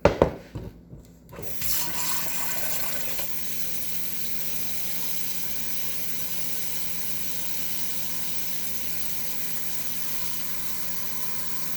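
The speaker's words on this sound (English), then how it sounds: "I'm going to top that up with nice cold water." Cold water pours steadily into a stock pot holding chicken bones and vegetables, a continuous rushing flow that follows a brief splashy start and runs on evenly without talk.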